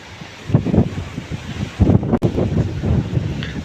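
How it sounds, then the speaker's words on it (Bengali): Strong gusting wind buffets the microphone in heavy rumbling bursts, with a steady wash of heavy rain underneath, at a seaport under a local storm warning signal number 3. "এত পরিমাণ বাতাস আর বৃষ্টি হচ্ছে"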